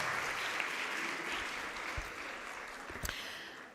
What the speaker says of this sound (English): Let's give a very big round of applause, everybody, for organizing this event.